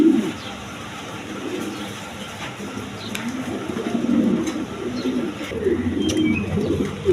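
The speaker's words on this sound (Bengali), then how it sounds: "এক হাতের কবুতর, রেঞ্জ কবুতর, অস্ট্রেলিয়ার রেঞ্জ কবুতর, চকলেট কালার" Pigeons at a bird market coo in low, throaty bursts, several birds overlapping near at hand over a soft, busy background hum.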